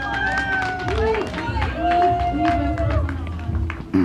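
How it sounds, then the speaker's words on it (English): Outdoor festival crowd at a live band gig claps and cheers for a departing band member, a dense, steady patter of hands with scattered whoops and crowd chatter, plus stray ringing tones from the stage sound system. "so give him a big round of applause"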